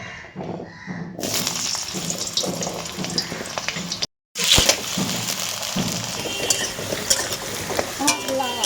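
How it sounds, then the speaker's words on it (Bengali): Potato pieces frying in hot oil make a loud, steady sizzle and crackle, with a brief silent break midway before the bubbling resumes even louder. "এবার আমি তেলের মধ্যে আলুটা ছেড়ে দেবো"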